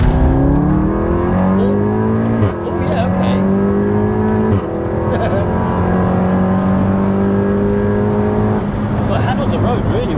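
Volkswagen Golf R with DSG gearbox driving, loud close engine note rising through the revs with quick gear changes in steady sweeps, people talking over it inside the car.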